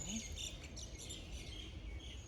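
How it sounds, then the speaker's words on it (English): Faint high chirps from birds in Mauritius scattered through steady background hiss, soft and distant, with no talking. "Just listening to the birds."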